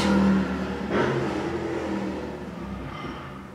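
Noisy motorcycles pass nearby as a continuous engine drone, loudest at the start, with a swell near the first second before it slowly fades.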